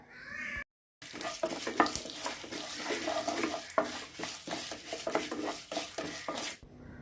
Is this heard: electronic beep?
no